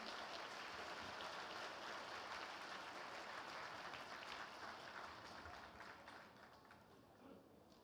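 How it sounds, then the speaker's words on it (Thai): Sustained applause from an audience at a Startup Thailand 2016 stage event, a dense continuous wash of clapping that holds steady and then gradually tapers off toward the end. "ทุกท่านคะขอเสียงปรบมือดังๆให้กับเวทีของเราในวันนี้ค่ะ"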